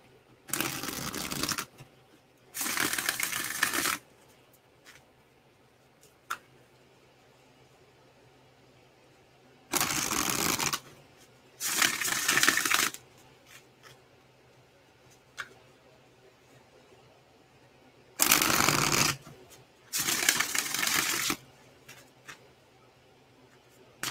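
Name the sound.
shuffling tarot cards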